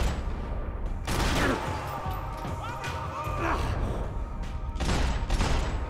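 Gunfire in the video game Max Payne 3, a few sharp shots and bursts standing out from a busy combat soundscape, with rumbling background effects throughout.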